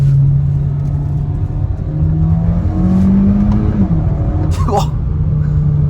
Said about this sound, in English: this dual clutch, it shifts quick